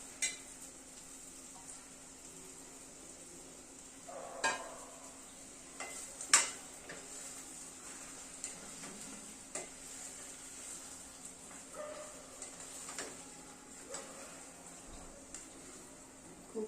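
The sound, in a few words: fried vegetables stirred into hot oil for veg Kolhapuri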